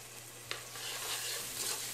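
Tomato masala with garam masala and chili powder stirred and frying in a pan, a gentle continuous sizzle with a soft spoon tap and light scraping, close and steady.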